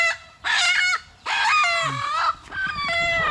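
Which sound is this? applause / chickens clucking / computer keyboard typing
chickens clucking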